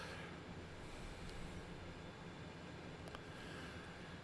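A freight train rolls through Horseshoe Curve in the Train Sim World 5 video game, giving a steady, dense rumble and broadband roar with faint metallic squeals, quiet and continuous throughout.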